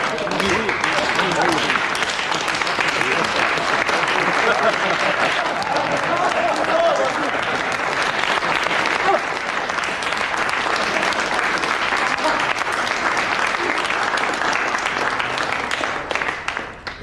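A crowd claps hands together in agreement at a court assembly, dense, sustained applause that fills the whole stretch at an even, loud level, with voices murmuring beneath it.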